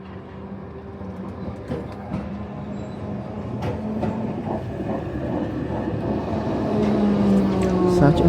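Tram pulling into a tram station in Timisoara, a steady low rumble of the approaching car with wheel rattle that grows louder over several seconds and ends in a squealing brake tone.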